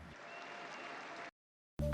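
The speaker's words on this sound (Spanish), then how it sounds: "el Papa pidió un aplauso para Rosario Livatino" Applause breaks out for Rosario Livatino, the judge murdered by the mafia and beatified in Palermo, after the Pope calls for it; a steady, dense wash of clapping runs about a second and a quarter, then cuts off abruptly.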